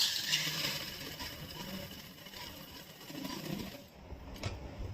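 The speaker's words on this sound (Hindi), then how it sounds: "देखिए इस पर मैं एक पैर की सिलाई लगाऊंगी।" A sewing machine runs steadily while stitching the leg seam of children's summer shorts, a continuous close mechanical whir with slight rattle that eases near the end; no speech.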